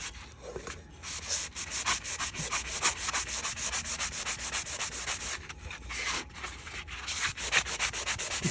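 A glitter-coated tumbler cup is sanded by hand with steady, close rubbing strokes and short pauses, a dry, even abrasive hiss with no talking.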